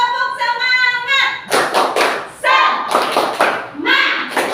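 A group does a rhythmic tepuk semangat clap during a classroom teaching session, with bursts of clapping in quick patterns mixed with loud chanting voices.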